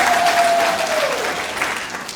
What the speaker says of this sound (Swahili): Makofi mengi kwa Naibu Spika.